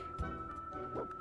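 A dog in a video game gives two short, soft barks about a second apart, set over a steady background tone.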